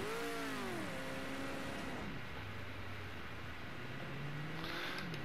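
A 1967 Ford Mark IV on a cool-down lap in Project CARS 2, its engine revving and falling in pitch early on, then settling into a low, steady drone under broadband road and wind noise.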